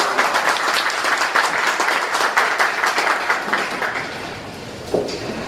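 An audience at a public ward meeting in Mumbai claps loudly and steadily, many hands blending into a dense roar that thins toward the end, with one sharp louder clap near the close.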